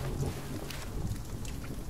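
Steady rain pours in a wilderness survival setting from The Forest game, with low rolling thunder rumbling beneath a dense hiss of falling water.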